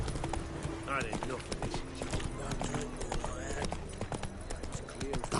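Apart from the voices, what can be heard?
horse hooves galloping in video game The Witcher 3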